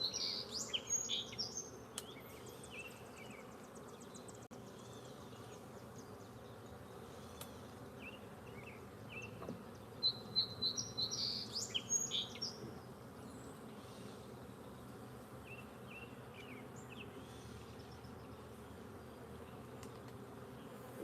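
Honeybees hum steadily around an open beehive during a beeyard inspection, a continuous close drone with brief louder buzzing bursts as bees fly past.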